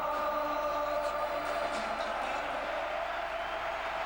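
A large football crowd of about 37,500 at Celtic Park gives a sustained standing ovation, a broad, steady roar of applause and cheering that fills the whole stretch at a distance, with no voice standing out.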